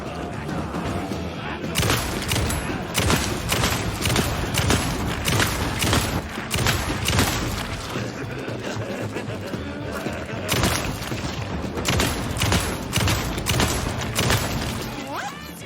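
Rapid, dense bursts of gunfire and heavy booms fill the action in the video game Alan Wake 2, loud and nearly continuous with brief lulls between volleys.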